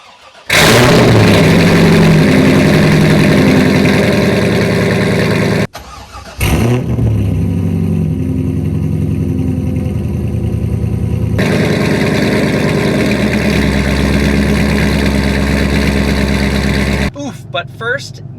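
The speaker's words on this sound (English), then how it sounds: "enjoy this very, very cold start of the C5, now with its long tube headers and catless X-pipe and no mufflers" A C5 Corvette with long tube headers, catless X-pipe and no mufflers cold-starts on a freezing morning: a starter whir, then a loud raspy engine catch and revs, a brief dip, and a sustained harsh high idle close by.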